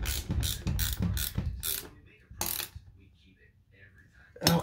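A socket ratchet tightens a bolt during a repair, giving several short, loud bursts of rapid clicking in a quick run, then a pause and a final burst, with faint background noise between.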